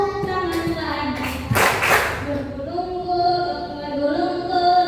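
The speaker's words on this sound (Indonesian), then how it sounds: "tutup, tepuk tangan lagi" Children at an orphanage in Indonesia clap their hands in a short burst of several quick claps during an action song at an anti-bullying event, while young voices keep singing around it.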